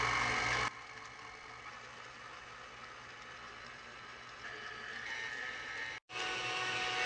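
An electric stand or hand mixer whipping cream on low speed, a faint steady motor hum throughout with a slight rise in pitch near the end and a brief dropout just before the close.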